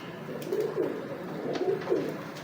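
Pigeons of an old, prized breed coo in low, rolling phrases, two clear bouts close by and fairly loud, with faint rustling between them.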